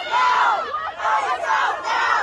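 A chaotic crowd shouts during a federal raid on street vendors on Canal Street in New York, with overlapping loud yells and chants surging in three or four waves, close and dense.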